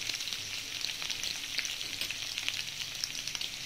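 Curry leaves and grated ginger fry in a pan with a bright, crackly sizzle, dense small pops over a steady hiss, close and uninterrupted by talk.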